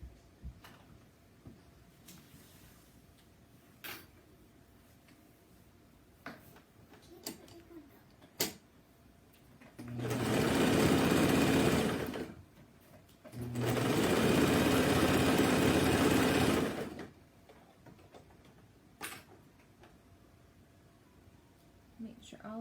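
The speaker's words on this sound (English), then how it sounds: "And now we're going to serge down the other side." A serger overlocker stitches down the side seam of a camisole in two steady loud bursts of rapid mechanical whirring, separated by a short pause, with sparse clicks and handling noises before and after.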